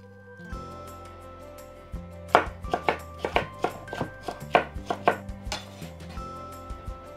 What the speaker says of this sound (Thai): แล้วก็หั่นเป็นเส้นยาวแบบนี